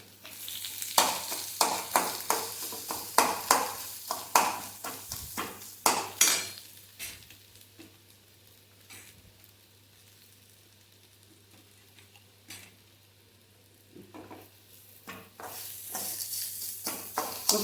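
Raw plantain pieces fry in oil in a pan, with repeated scraping stirs of a metal spoon against the pan over a constant sizzle, the stirring rhythmic at first, then sparse, heard up close.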